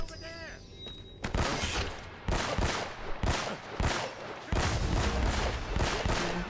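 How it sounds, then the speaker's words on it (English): Pistol gunfire in the action game Uncharted: Drake's Fortune, a rapid series of sharp, loud gunshots in irregular bursts with short gaps, following a brief stretch of game sounds and talking. "these guys with the super strong pistols"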